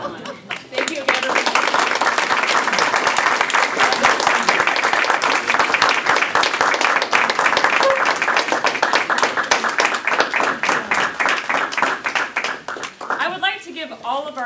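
Sustained audience applause at a Toastmasters-style international speech contest, dense steady clapping from a sizable crowd filling the room for over a dozen seconds before easing off near the end.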